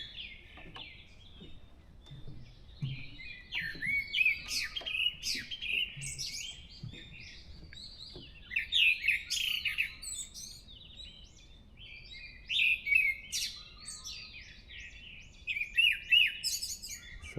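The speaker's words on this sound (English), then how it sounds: "That's the thrush." A thrush sings in a Korean forest: repeated bursts of bright, clear chirping phrases come every few seconds over quiet background, moderately near.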